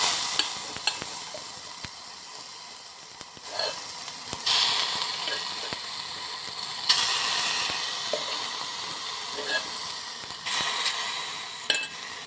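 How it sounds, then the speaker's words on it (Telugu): Curdled milk for palkova cooks in a pot over a low flame on a stove, giving a steady soft sizzle with scattered stirring scrapes and light clinks of a spoon against the pot. "ఇది పొయ్యి మీద కొంచెం సన్నమంట మీద మగ్గనిద్దాం"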